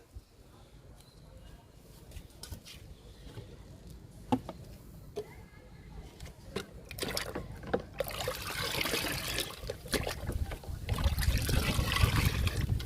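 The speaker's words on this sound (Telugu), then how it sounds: "ఈరోజు మనం మొక్కలకి మునగాకు లిక్విడ్ ఇచ్చేద్దాము" Soft liquid trickling and splashing as moringa leaf liquid fertilizer is poured onto potted plants, scattered light taps at first, then a louder sustained pour toward the end, with faint voices in the background.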